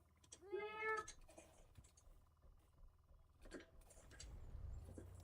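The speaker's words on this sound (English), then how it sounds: "Was that just me, or did I hear a cat?" A cat meows once, clear and fairly close, inside a small aircraft during pre-flight engine start, with faint clicks and low engine rumble continuing afterward.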